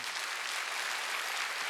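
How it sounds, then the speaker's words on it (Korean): A church congregation claps together during a Sunday worship service, producing a dense, even wash of applause that stays loud and constant throughout. "박수 치라."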